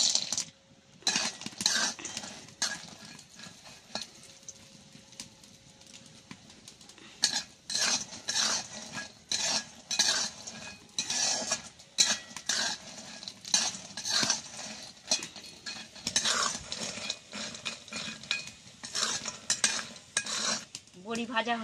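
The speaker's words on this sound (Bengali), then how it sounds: "বড়িটা দিয়ে দিচ্ছি কড়ায় ভাজার জন্য" Lentil badi frying in mustard oil in a kadai, with a steady sizzle broken by repeated metal spatula scrapes and clinks against the pan as the pieces are stirred.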